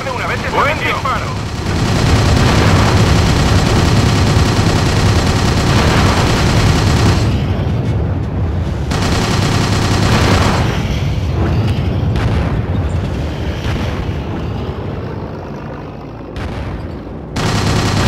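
Gunfire and explosions in the Call of Duty: Roads to Victory video game, with rapid bursts of turret and machine-gun fire and booming blasts, loud and sustained, with voices speaking intermittently over the battle.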